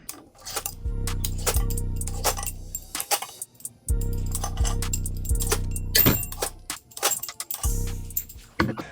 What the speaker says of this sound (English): I'll start by taking all of these old bolts out.